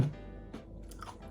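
Crunchy chewing of crispy baked vegetable chips, yellow sweet potato among them, close to the mouth, a few muffled bites over about a second with no talk.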